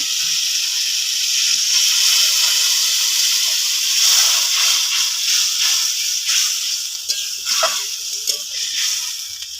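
Water poured into hot masala for a pangas fish curry erupts in a loud rushing hiss of steam, which holds steady and then breaks into fainter crackling bubbles as it settles.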